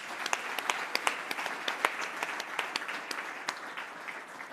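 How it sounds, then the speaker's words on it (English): A conference audience applauds, a dense, even patter of many hands clapping with scattered sharper individual claps, steady and moderately distant throughout, with no voices over it. "Shall we please give Telkom a round of applause?"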